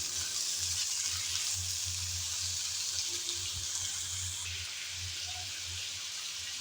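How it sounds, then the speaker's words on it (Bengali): Potatoes and pointed gourd fry in a pan with oil as they are stirred, giving a steady, close hiss of sizzling across the whole stretch with no voices. "আলু আর পটল দিয়ে নেড়ে চেড়ে একটু ভেজে নিলাম"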